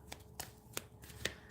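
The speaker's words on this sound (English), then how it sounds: "That's probably why I'm just shuffling these." A deck of dragon-themed tarot cards being shuffled by hand, with several sharp riffling snaps spaced out over a soft, quiet background, close to the microphone and with no talking.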